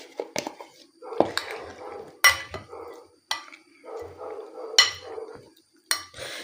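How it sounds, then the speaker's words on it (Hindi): A spoon stirring a kidney bean salad in a bowl, with irregular clinks and scrapes against the dish at an uneven pace, fairly close, and a soft rustle of the mixed ingredients between knocks. "इसको अच्छी तरह मिक्स कर लें।"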